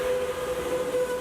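An Amtrak Pacific Surfliner passenger train sounds a sustained steady horn tone over rumbling rail noise, close and constant throughout the short stretch, with no talk.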